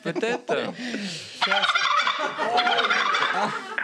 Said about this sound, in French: C'est le dindon.